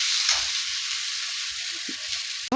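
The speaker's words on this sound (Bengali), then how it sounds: "পেঁয়াজটা ভাজা ভাজা হয়ে এলো" Chopped onion fries in a pan with spices, a steady close hiss of sizzling oil running throughout, with a few soft knocks of stirring and a brief scrape near the end.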